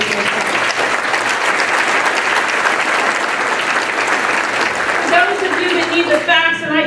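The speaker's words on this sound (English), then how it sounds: "everyone deserves, or should, give a round of applause to NJMEP for all of the work they've done" An audience at a Manufacturing Day opening event claps for NJMEP, a full, fairly loud round of applause that starts tapering near the end as voices and a few whoops rise over the clapping.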